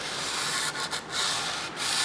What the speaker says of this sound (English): continue to sand